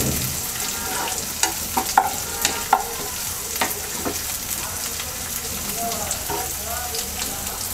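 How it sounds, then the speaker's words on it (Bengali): Onions and chopped green chilies frying in a pan, with a steady crackling sizzle and a few sharp spatula clicks early on, close and moderately loud. "পেঁয়াজটা ভাজা হয়ে গেছে পাঁচটা কাঁচামরিচ ছোটো করে পালি করা দিয়ে দিচ্ছে"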